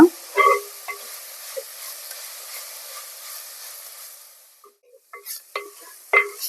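Drumstick leaves with dried shrimp cooking in a pan, village style, a low crackling sizzle with occasional stirring knocks, fading to near silence midway before a few louder scraping clatters return near the end.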